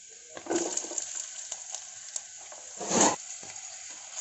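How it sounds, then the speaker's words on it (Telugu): Ginger and garlic sizzle in a pan while ragi mixed vegetable soup is being made, a soft steady frying hiss with brief stirring swells, close and fairly quiet, with no voices. "అల్లం వెల్లుల్లిపాయ వేగిపోయండి"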